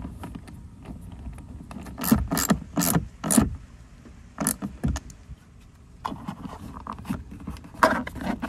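Screws driven into a Chrysler Pacifica door panel, heard as a series of close, sharp mechanical clicks and ratcheting bursts separated by brief pauses, with no talking.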